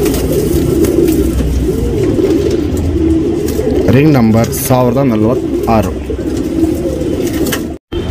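Tournament racing pigeons coo in soft, rolling bursts close by while someone talks over them.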